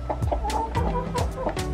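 Backyard hens cluck in short, close bursts, several quick throaty clucks in an uneven rhythm with no talking.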